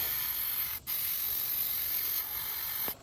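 Bursts of aerosol cleaner sprayed onto a Cub Cadet string trimmer carburetor: a long steady hiss broken by two brief pauses, close and loud, with no talking.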